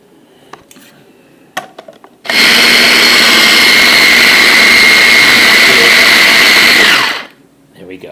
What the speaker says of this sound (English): This is a mini chopper that I have that'll grind this up nicely.